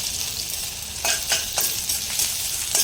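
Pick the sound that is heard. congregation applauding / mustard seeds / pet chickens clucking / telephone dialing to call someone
mustard seeds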